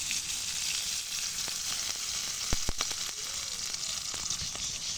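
Chopped onions and green chilies hiss in hot oil in a pan as a continuous close sizzle, with a couple of sharp utensil clinks midway.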